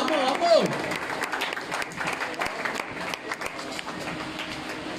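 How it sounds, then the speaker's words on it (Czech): Audience applause and cheering at a national final of a Panamanian freestyle rap battle, a dense crowd roar that holds steady for the whole stretch under a shouting emcee. "fuerte el aplauso"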